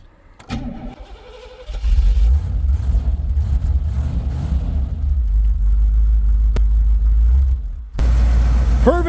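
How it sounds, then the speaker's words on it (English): An Iroc Z Camaro that sat for five months fires up after a brief crank, then settles into a loud, close, deep rumbling idle that holds steady before a sharp blip near the end. "So the Camaro, she pretty much fired right up right now."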